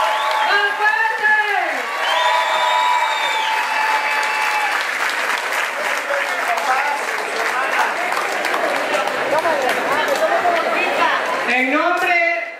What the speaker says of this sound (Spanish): ¡Más aplausos, que se escuche, gente de Cuautla!